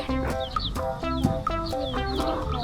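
Chickens in a coop clucking over one another, a steady overlapping chorus of short, rhythmic clucks and squawks at close range, with no talk in the clip.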